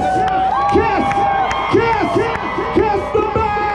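A carnival crowd cheers, whoops and shouts for a performer at a Toronto Carnival band event, loud and continuous, with swelling bursts of yelling and an announcer's voice over the noise.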